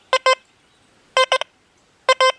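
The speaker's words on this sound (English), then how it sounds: "So you hear that? Listen. It's a double beeper." Three pairs of short, bright electronic beeps from a Deus 2 metal detector, each pair quick and evenly spaced, ringing out clearly against near silence.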